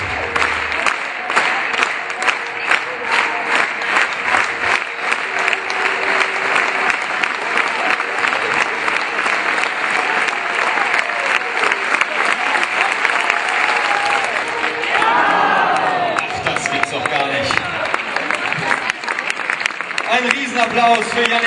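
Sustained audience applause at a high jump competition at a German sports university, dense steady clapping lasting about twenty seconds with some crowd noise and a voice speaking over it near the end.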